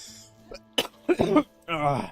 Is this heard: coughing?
yes